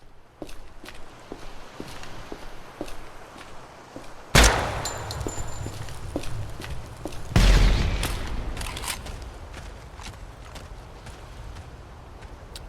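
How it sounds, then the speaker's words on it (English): Two heavy 30-06 rifle shots in a video game weapon test, a few seconds apart, each a sharp loud crack followed by a long rolling echo, with faint footstep-like ticks and rustle in between. "We're doing more weapon tests, if you couldn't tell. We're on the 30-06 now."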